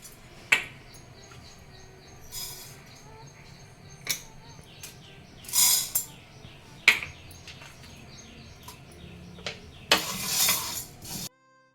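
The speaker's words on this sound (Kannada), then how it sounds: "ಒಂದು ಪ್ಯಾನ್ ಇಟ್ಕೊಂಡಿದ್ದೀನಿ ಪ್ಯಾನ್ಗೆಲ್ಲ ಹಾಕಿ ಹುರ್ಕೊಳ್ಳೋಣ" Whole spices, cloves, cinnamon and cardamom, dry roasted and stirred in a pan for vangi bath masala, giving scattered scraping clinks and rattling bursts of a spoon against metal, fairly close, with short pauses between strokes.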